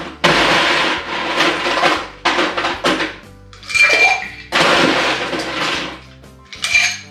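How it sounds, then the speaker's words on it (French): Ice cubes clatter into a glass while a Long Island Iced Tea cocktail is being made, several loud rattling bursts of clinking against glass and metal separated by short pauses, with no talking. "Pour une fois, je vais rajouter ma glace."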